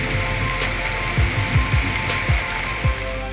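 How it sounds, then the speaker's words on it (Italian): Heavy thunderstorm rain pours steadily outside a wooden hut in the Ligurian mountains, a dense continuous hiss with a few soft knocks and drips close by. "piove con forte intensità per circa un'ora."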